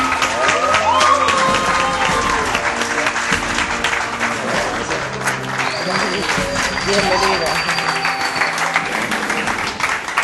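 A studio audience on a Spanish-language evening talk show applauds loudly and steadily to welcome a national swimming figure, a sustained wall of clapping with triumphant music and a host's voice mixed in.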